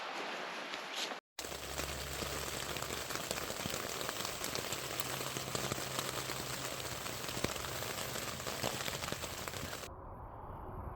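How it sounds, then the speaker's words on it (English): Steady rain patters on surfaces at a National Forest campsite in Idaho, a dense continuous hiss close by with no voices. "very rainy, very cold, very wet."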